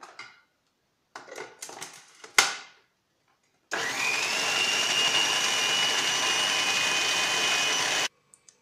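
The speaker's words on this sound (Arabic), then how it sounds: "ونرجع نخلطهم مع بعض. نشغل المكسر." A few clinks and handling noises, then a blender mixing garlic sauce with oil starts up and whirs steadily for several seconds at close range before stopping abruptly.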